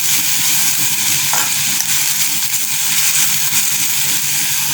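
Lasia spinosa curry being stirred in a pan after salt goes in, a loud steady sizzle and bubbling with soft scraping of the spoon throughout.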